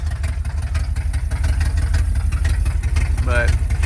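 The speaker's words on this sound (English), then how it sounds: "You can really hear that exhaust." A car's engine idles with a loud, rumbling exhaust, a steady low throb close by, with someone talking and a brief higher whine near the end.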